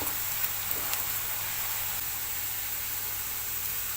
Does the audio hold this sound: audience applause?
no